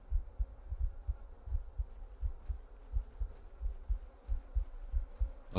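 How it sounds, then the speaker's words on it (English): Steady thumping heartbeat from The Excavation of Hob's Barrow video game, low double pulses repeating evenly at a moderate pace over a soft hum, alone with no talk. "I love like this sort of heartbeat"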